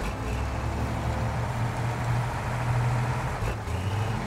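A heavy video game truck engine idles and rumbles steadily at close range, a deep constant drone with a brief dip near the end.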